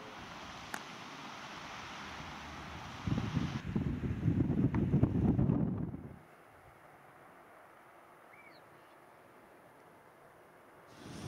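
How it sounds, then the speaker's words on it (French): Strong, very cold wind roars across the microphone on a lakeside in the Alps, building into loud buffeting gusts for a few seconds before dropping to a low, steady rush. "le vent s'est levé très vite et très fort. Un vent très froid"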